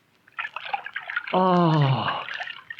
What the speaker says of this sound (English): Sit down on this stone, Herman. I will bathe your leg.